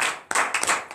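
A church congregation at a morning prayer service in Benin claps in acclamation, a burst of dense, loud clapping that starts abruptly partway in and continues with uneven swells.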